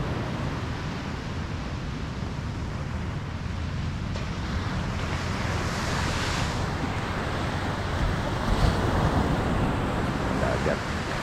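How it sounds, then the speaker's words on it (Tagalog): Ocean waves wash steadily at the sea on a cold morning, a broad continuous surf rush mixed with wind buffeting the microphone, with no clear break in the sound. "Dagat."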